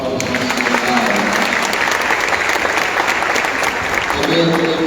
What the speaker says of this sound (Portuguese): Uma salva de palmas para os nossos coitados.